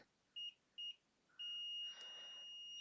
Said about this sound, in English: Okay, we can hear a beep, 1 ohm.